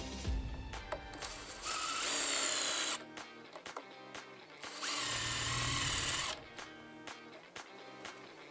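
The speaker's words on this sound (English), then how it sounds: "you got to line up this plate so you know where you need to drill your holes" A power drill bores 1/4 inch holes through a steering plate for a Superjet jet ski, two loud sustained whining bursts of a few seconds each, separated and followed by quieter workshop clatter.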